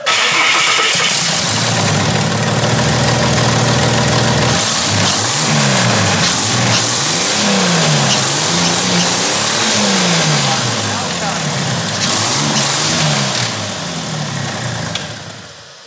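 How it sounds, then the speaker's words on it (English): An AU Falcon engine fitted with twin turbos cranks and fires up, then revs repeatedly in rising and falling surges, loud and close, with voices talking over it. "we think it's appropriate we start the car. Start her up."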